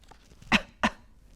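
Two short, loud coughs about a third of a second apart, performed by a storyteller reading aloud to imitate a knock at a front door, heard alone against quiet.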